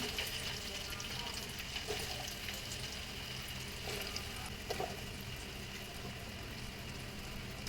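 Onions for a 1 kg chicken biryani frying until golden in a pot: a faint, continuous sizzle and hiss with soft occasional stirring scrapes, low and steady throughout, with no talking.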